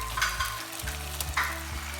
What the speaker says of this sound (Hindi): अब हम इस चिकन को तब तक फ्राई करेंगे जब तक कि इसका जो कलर है वो चेंज ना हो जाए